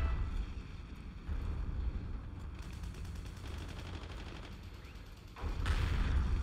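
Gunfire in a video game plays as a rapid stream of distant shots over steady wind and rumbling background noise, with a louder, heavier burst near the end and no voices.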